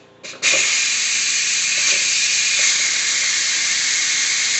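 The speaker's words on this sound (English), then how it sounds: "Now I'm going to release the pressure." Pressure cooker valve opened after cooking beef and macaroni: a brief sputter, then a loud, close, sustained hiss of escaping steam holding steady to the end.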